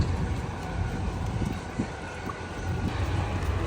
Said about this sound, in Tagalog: Pero medyo mahangin mga bay, hindi ko alam kung maklaro ba yung boses natin.